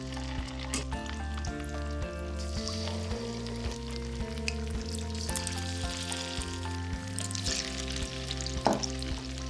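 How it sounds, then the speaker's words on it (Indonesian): Slices of tempeh crackle and sizzle as they deep-fry in hot oil, a steady busy frying sound with occasional louder pops, close by. "Sekarang celup hirisan tempe dan goreng garing."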